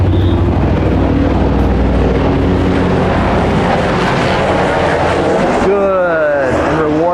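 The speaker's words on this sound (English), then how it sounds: "We got noisy helicopters going on up ahead" Helicopters fly overhead outdoors at a dog-training session, giving a loud, continuous rotor and engine roar that shifts toward the end of the clip. A voice is partly masked under the noise.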